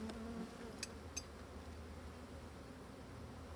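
Agitated black bees from a riled-up colony buzz around a beekeeper's face, a faint continuous droning hum with a couple of brief sharp ticks.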